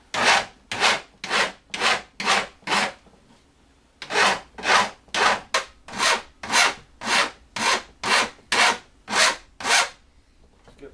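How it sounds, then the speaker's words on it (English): A rat tail half round file rasps over the corners of a cut PC case side panel window opening in steady back-and-forth strokes, close and crisp, in two runs with a short pause between them. "I've got a rat tail, half round, and I'm just going to smooth these corners out a bit"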